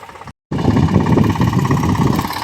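A tractor engine runs steadily in a farm field near wheat and gram furrows, a loud continuous mid-pitched rumble after a brief cut in the sound, with no talking.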